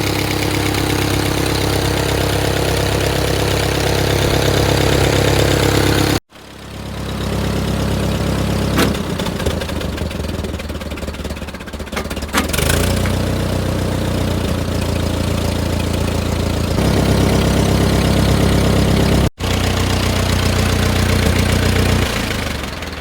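A 1948 Ford 8N tractor engine idles loud and close in the open air, a steady low chugging rumble with a faint knock, broken by two brief cuts and shifting slightly in tone partway through.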